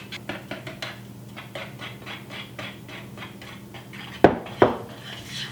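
A utensil folding dry ingredients into pumpkin spice cracker batter in a bowl, with soft rhythmic scraping strokes, then two sharp clinks of utensil against the bowl near the end, close and quiet.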